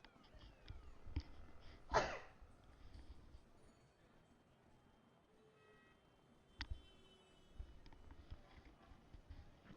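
One sudden, sharp sneeze bursts out close to the microphone, set against a quiet room with faint clicks and soft background sounds before and after.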